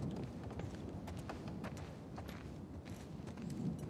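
Horses shift and step inside a stable in The Last of Us Part 2, soft, irregular hoof clops and thumps over a low, constant background hum.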